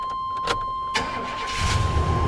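GMC C2500 pickup truck with a new battery cranks in short bursts on its first start of the day, then catches and settles into a low, rumbling idle nearby.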